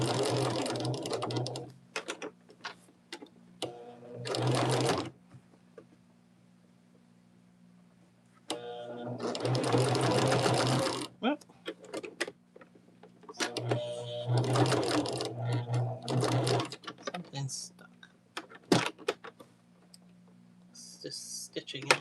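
Sewing machine stitching a ribbon quilt block, with several bursts of steady motor whirring broken by pauses and light clicks, close and fairly loud.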